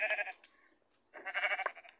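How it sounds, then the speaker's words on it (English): Two short sheep bleats from the Minecraft video game, a brief nasal call followed by a longer wavering one after a pause, clear and alone. "There are sheep."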